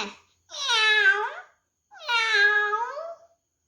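A kindergarten child at a Children's Day competition imitates a cat, giving two long, wavering meows separated by a short pause, clear and close in otherwise quiet surroundings.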